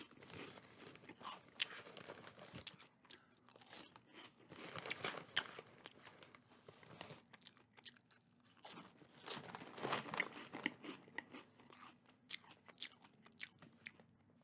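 Puffed Cheez Doodles eaten close to the mic, with crisp bites and crunches in bursts followed by softer chewing, with no talking.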